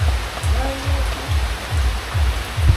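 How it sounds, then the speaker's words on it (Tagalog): Sudden rain falls steadily around a house in a continuous hiss, with a low rhythmic thumping underneath. "ito kita nyo biglang umuulan"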